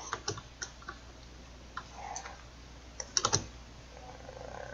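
Scattered computer keyboard keys click at close range during a Fortnite game, with several single taps and a quick cluster of presses over a quiet background hum.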